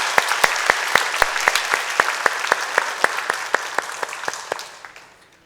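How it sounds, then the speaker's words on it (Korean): Congregation clapping during a Sunday evening church worship service, a steady crowd of hand claps with sharp accented beats that carries on for about five seconds before tapering off. "하나님께 영광의 박수 올려드리겠습니다"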